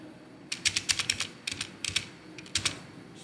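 Computer keyboard keys are pressed in quick irregular bursts while a word is deleted in a Microsoft Excel spreadsheet, with sharp close clicks clustered in a few short runs.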